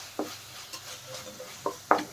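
A spoon scrapes and stirs green peas through thick sautéed masala in a pan, a few distinct scraping strokes over a faint sizzle, close and fairly quiet.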